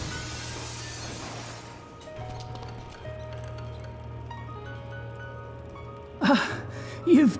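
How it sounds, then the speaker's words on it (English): Muffled window glass breaking under a seat cover in the game Dead Synchronicity, two short dull crunches near the end over a steady low hum of game ambience. "let's cross our fingers that the seat cover absorbs the noise of the breaking glass"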